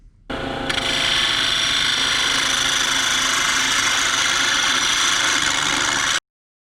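A wood lathe spins up and runs steadily with a piece of white palm mounted to be turned into a knob, giving a loud continuous motor hum and whine close by, then stopping abruptly.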